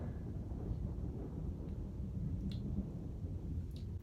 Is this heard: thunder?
yes